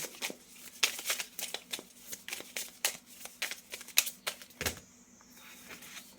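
Tarot cards being shuffled close up, a quick run of crisp riffling clicks and flicks in uneven bursts, with a louder snap near the end and no talking.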